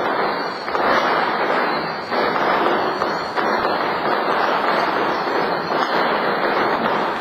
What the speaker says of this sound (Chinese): 一直在放鞭炮